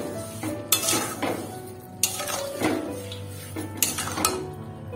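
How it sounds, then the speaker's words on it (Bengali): Sugar stirred into tomatoes in a pan for tomato chutney, a few loud scraping and clanking strokes of a spoon against the metal pan over a soft sizzle. "চিনিটা দেওয়ার পরে ওটা আমি টমেটো সাথে মিশিয়ে দেবো।"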